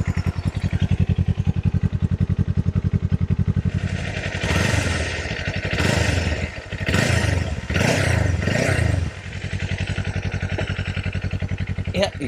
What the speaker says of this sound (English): Startup procedure comes on like that. So an exhaust note check.